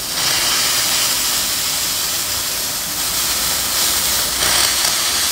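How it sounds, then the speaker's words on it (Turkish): The single-nozzle steam wand of a Gtech ST-530ED coffee machine, set to its third and strongest level, blasts a loud, continuous hiss of steam close by, with no voices. "Bastığınızda direkt buhar veriyor."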